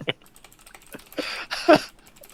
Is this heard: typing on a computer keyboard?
yes